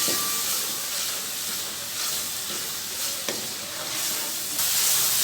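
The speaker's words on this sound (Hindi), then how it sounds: "हल्दी, अच्छी तरह भूनेंगे इस मसाले को हम" Spice masala with turmeric roasting in oil for black chickpea curry, a continuous close sizzle and hiss with soft stirring scrapes and no talking.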